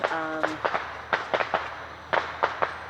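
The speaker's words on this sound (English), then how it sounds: "there goes some fireworks right now." Scattered Fourth of July fireworks pop and crackle at a distance in irregular bursts, over a steady outdoor background hum in a garden.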